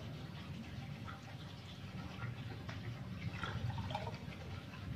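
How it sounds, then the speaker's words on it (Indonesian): Potassium hydroxide solution poured onto planting medium, a soft continuous trickle and splash of liquid lasting several seconds, faint and close, with a slight rise in watery gurgling toward the end. "Dan yang satunya lagi media tanam kita siram dengan larutan kalium hidroksida."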